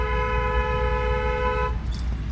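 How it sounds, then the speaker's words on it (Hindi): A car horn sounds in one long, continuous blast lasting under two seconds over low rumbling traffic noise on a road in Lucknow, then cuts off abruptly. "लॉन्ग हॉर्न प्रेस करिए"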